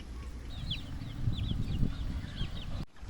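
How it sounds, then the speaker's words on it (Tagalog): Newly banded young game-fowl chicks let loose in an outdoor breeding range, giving scattered high, thin peeps and chirps over a low rumbling background, fairly close and steady throughout. "Ito naman yung mga sisiw na bagong banding na inalpasan sa breeding range."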